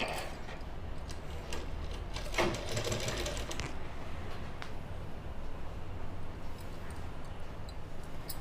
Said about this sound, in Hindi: यहाँ पे सिलाई लगा लेंगे